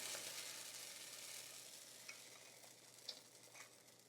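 Batter sizzles steadily in a hot 10-inch skillet while hoecakes fry, a soft continuous hiss with a few faint clicks and pops, heard alone with no talking.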